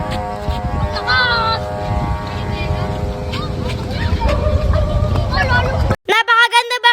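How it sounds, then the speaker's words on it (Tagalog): A homemade kite fitted with a hummer hums in flight, a steady buzzing drone with shifting overtones under people talking, then breaking into pulsing bursts near the end. "Dahil nga napakaangas talaga para sa akin ang saranggolang pag may sumbang naririnig."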